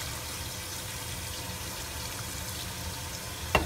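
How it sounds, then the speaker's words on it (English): Steady rush of tap water pouring into a pot, a continuous hiss that runs the whole time, ending with a brief clunk. "I fill it up with water and then I boil my dry pasta in it."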